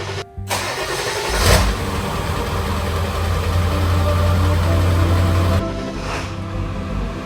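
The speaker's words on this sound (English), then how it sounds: "Let's start it up and see if it actually starts." Ford F350 truck engine cranking and firing up after a fuel filter change, a close, loud rumble that settles into a steady idle and then drops back, with no talking.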